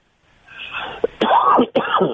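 A man with allergies gives a few short coughs and throat-clearing bursts, close to the mic, with brief gaps between them.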